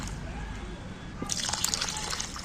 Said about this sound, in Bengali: চালটা আমি জলে দিচ্ছি